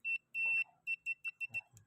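A continuity tester set to buzzer mode, probing the wiring of an automatic washing machine, gives a string of short sharp beeps, one longer tone followed by several quick pulses, close and clear.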